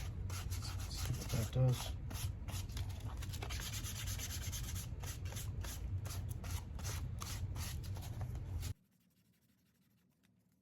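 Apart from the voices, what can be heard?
sanding with 320 grit sandpaper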